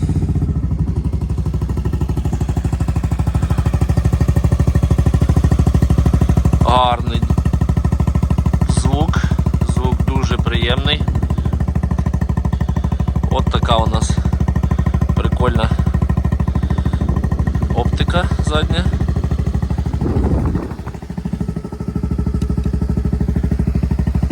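Honda Forza MF-13 250cc fuel-injected scooter from 2019 idling steadily after starting, a continuous low engine drone throughout with a brief dip near the end, while a person talks over it.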